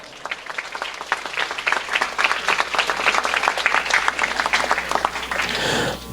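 Warm applause for a guest at a special session of a municipal chamber on combating child labour in Santa Catarina: steady, dense clapping from a seated audience, fairly close, lasting several seconds before fading.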